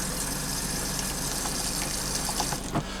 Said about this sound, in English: so now I'm filling the toilet back up with water.